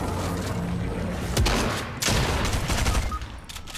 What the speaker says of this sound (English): There's a grenade.